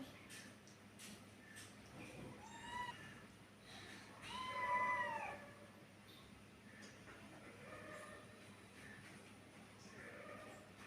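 A cat perched on top of a fridge meows softly several times in a quiet room, the calls faint and spaced out over a low background hum.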